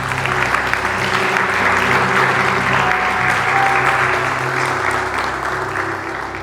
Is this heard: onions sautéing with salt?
no